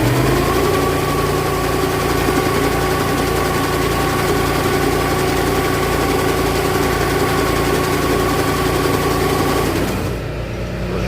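A grain auger running steadily at a constant drone with a faint whine, loud and close with no talk, cutting off abruptly near the end as the machine is shut down.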